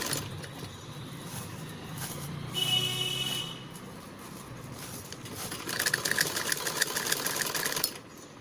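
A sewing machine runs in short stitching bursts while a half-inch seam is sewn, joining blouse pieces cut from an old belt-style blouse. The motor whirs and rattles steadily, close and fairly loud, growing busier near the end, with no voices.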